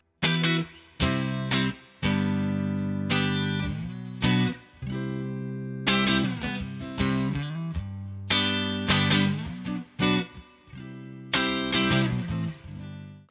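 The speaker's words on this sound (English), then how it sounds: "I'll just kick on the fuzz, the overdrive, whatever feels right." An electric guitar with thick fuzz overdrive plays loud sustained chords and riffs, with brief stops between phrases.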